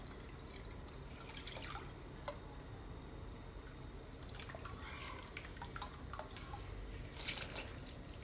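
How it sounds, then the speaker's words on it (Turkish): Milk is poured from a bowl-sized cup into a beaten egg and sugar mixture for soft poğaça dough, giving faint dripping and trickling liquid sounds over steady kitchen background noise. "Şimdi süt koyacağım."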